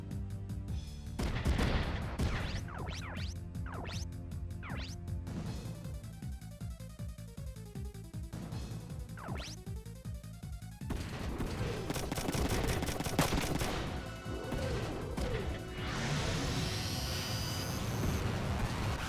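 Heavy mech gunfire from the Front Mission 3 video game, dense bursts of shots and impacts layered over a steady game music backing, loud and continuous with sweeping laser-like tones toward the end.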